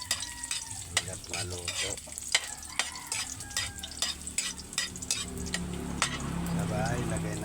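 Food fries in a pan and sizzles steadily while a utensil stirs it, scraping and clinking against the metal in an irregular rhythm, as someone talks over the cooking.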